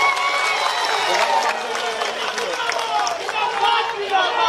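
A rally crowd bursts into long, sustained applause, dense clapping continuing steadily throughout, with crowd voices mixed in.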